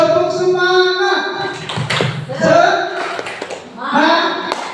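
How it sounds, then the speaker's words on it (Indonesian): A group claps in rhythm through the Indonesian 'tepuk semangat' clap chant, sharp patterned bursts of hands mixed with loud voices chanting along in a classroom-style gathering. "Tepuk semangat."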